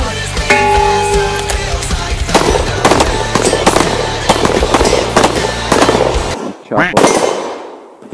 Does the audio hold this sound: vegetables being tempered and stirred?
no